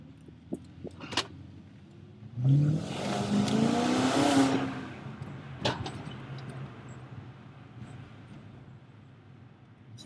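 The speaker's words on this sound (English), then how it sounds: "You cannot get that beefy, tearing V8 sound from anything else." A BMW E39 540i V8 started cold gives a loud, beefy exhaust rev that swells and holds for about two seconds, then settles back to a steady idle with a couple of sharp clicks nearby.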